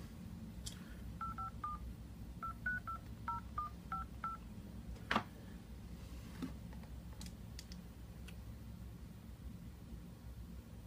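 A telephone keypad dials back into a teleconference, giving a quick run of short touch-tone beeps in small clusters, followed by faint clicks over a steady low hiss.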